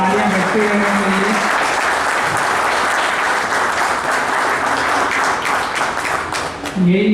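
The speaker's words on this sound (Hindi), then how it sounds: "बहुत बहुत तालियां बजती रहनी चाहिए।" Loud, sustained audience applause at a wage-agreement gathering at a Mandideep division, a dense continuous wash of clapping, with a voice speaking over it briefly at the start and again at the end.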